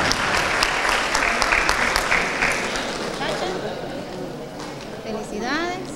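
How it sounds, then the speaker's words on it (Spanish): Enthusiastic audience applause for students at a fair, dense clapping for a few seconds that thins out while a voice talks over it later. "Felicidades. Muchas felicidades, un gran aplauso"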